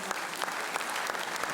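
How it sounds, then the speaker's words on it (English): Audience applause for a comedian at a live stand-up show, a steady wash of clapping from a large crowd throughout, fairly distant and even with no talk over it. "Please, a round of applause for Casino."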